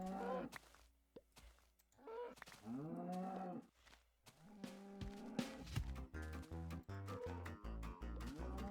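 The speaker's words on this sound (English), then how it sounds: "Why are there so many cows?" Cows in Minecraft Beta 1.8 give several drawn-out, wavering moos in the first half, followed by a dense run of stepped game tones that build into a louder, busier stretch.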